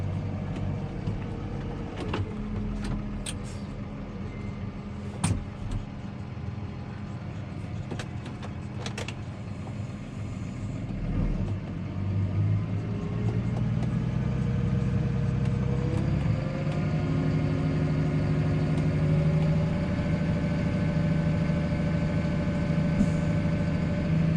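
A Case Puma 145 tractor hauling a load of manure rumbles steadily from inside the cab, its engine drone rising slightly as it drives, with occasional clicks and rattles over the top.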